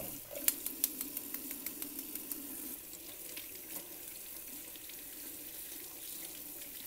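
Tap water runs in a steady hiss over a hard boiled egg being peeled, with a quick series of light rhythmic taps near the start, close by and fairly quiet.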